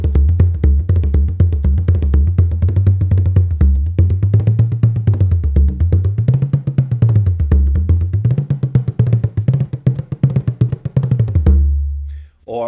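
A wooden tipper played double-ended for a harder attack beats out a fast, continuous stream of drum strokes. The low drum tone bends up and down as it plays, and everything stops abruptly near the end.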